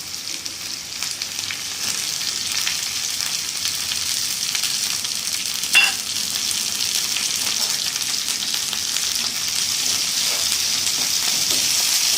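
Curry leaves frying in oil in a pan for a brinjal tomato fenugreek curry, a loud, steady sizzle close by, with one brief stirring clink partway through, no speech.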